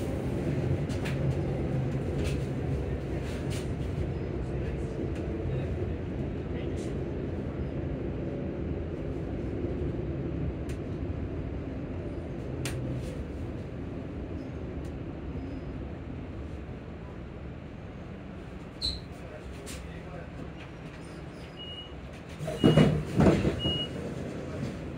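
A passenger train bound for Edinburgh Waverley arrives at Livingston North station, heard from inside as a steady rumble that eases off, with a few clicks and a short burst of beeps near the end.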